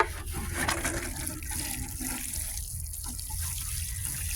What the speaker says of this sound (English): let's get to watering a little bit here.